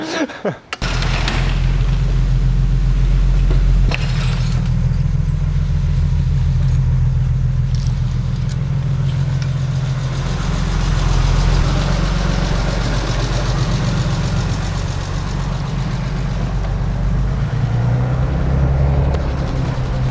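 A BMW M3 left abandoned for four years runs close by with a loud, steady, rumbling engine note that keeps going without a break throughout, a few sharp clunks at the start and faint talk beneath it.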